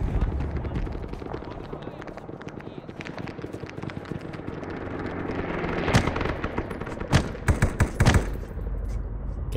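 Dense, continuous gunfire from the Arma 3 military shooter game, with sustained automatic bursts and a few louder sharp shots near the end, all fairly loud and close throughout.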